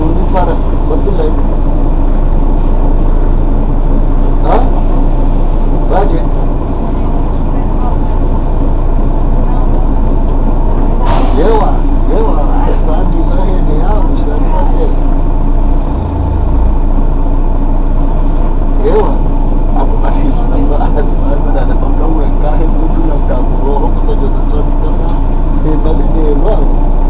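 A Mercedes-Benz Citaro city bus, number 996 of the RTM fleet in Marseille, runs in service. Its loud, constant low engine rumble is heard from inside, with occasional knocks and rattles and faint voices in the background.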